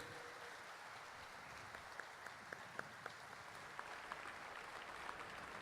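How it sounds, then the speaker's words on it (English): Faint, distant audience applause at a state inauguration ceremony, honoring a band after prelude music; a steady wash of clapping runs throughout, with a few sharper individual claps standing out over the low, even crowd noise. "can you please join me in giving a warm round of applause to the Royal Hawaiian Band"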